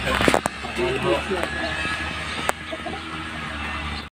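Hens clucking softly nearby over a steady background hum, with a few sharp clicks and knocks.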